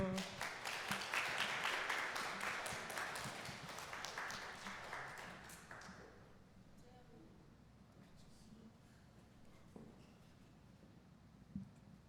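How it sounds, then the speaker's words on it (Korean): A church congregation claps for prize winners at a youth worship service bingo awarding, a brief burst of applause that fades after a few seconds, with a voice talking over it. "박수 주세요"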